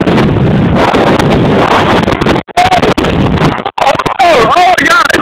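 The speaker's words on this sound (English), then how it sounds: "the wind just got intense." Hurricane Sandy's strong wind roars and buffets the microphone in Connecticut, a loud, continuous rushing blast with brief drops, while a person's voice is heard under the gusts.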